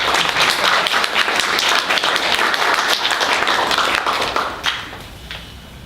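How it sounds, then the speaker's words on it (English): Audience applause at a college creative writing literary release party, a steady slow clap of many hands building into dense, continuous clapping before tapering off near the end. "thanks for my mom for starting that slow clap"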